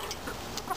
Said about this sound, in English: so I see you have some chickens